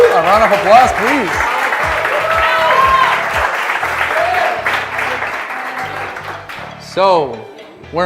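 Audience applause at a startup demo day, sustained clapping from a crowd over about eight seconds, with music playing and a voice speaking over it near the end.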